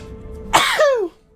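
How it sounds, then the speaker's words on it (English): A single sharp sneeze bursts out, followed by a brief rising-and-falling vocal tail, close and fairly loud against a quiet background. "I'm also about to sneeze in the middle of this"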